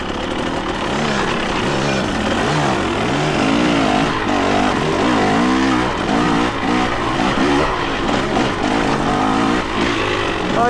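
A KTM 300XC-W two-stroke dirt bike engine running nearby, its pitch rising and falling in repeated revving sweeps, loud and buzzy with a raspy exhaust tone throughout.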